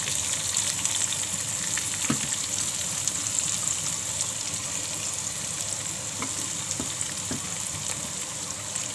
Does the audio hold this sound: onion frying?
yes